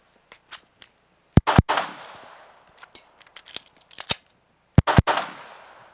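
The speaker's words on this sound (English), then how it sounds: "Nate just shot a couple rounds" Pistol shots fired during a magazine-change reload drill at a range, a pair of sharp, loud cracks, a pause for the reload, then another pair, with fainter distant shots and light clicks between.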